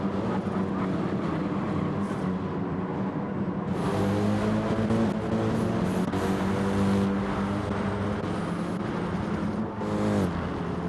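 Several race cars in a nighttime racing game pull away from the start together, a dense, loud engine roar with rising gear-shift whines stacking up as the pack accelerates toward the first corner.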